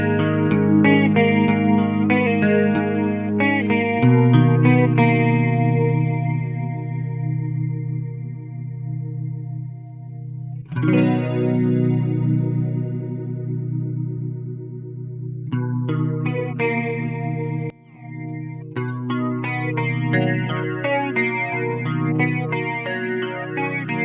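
Electric guitar through a Neunaber Inspire stereo chorus pedal, shimmering and wide, with strummed chords and picked phrases ringing out over sustained tails and a few pauses between passages.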